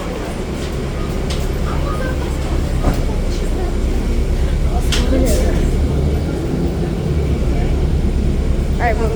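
Inside a TTC Route 944 Kipling South Express bus pulling away from Kipling Station in Toronto: steady, loud engine and road rumble with rattles and clunks, and a voice talking over it.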